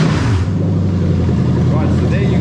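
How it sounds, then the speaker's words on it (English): A Lexus LS430 engine fitted in a Toyota Altezza RS200 with a J160 manual gearbox fires up and settles into a loud, steady, close-up idle rumble. "we're just going to start the engine"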